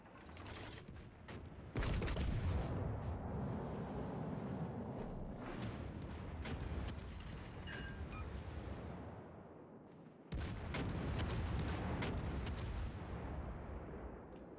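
Turrets are shot in a video game, with booming gunfire and explosions in heavy overlapping bursts, two especially loud onsets and a rolling roar between them.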